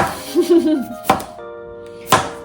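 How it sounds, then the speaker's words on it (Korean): A knife chops cucumber on a cutting board in a home kitchen while spring greens side dishes are prepared, giving two sharp, close knocks about a second apart with speech and faint background tones between them. "오이는 6썰기로 해가지고 이렇게 잘라줄게요"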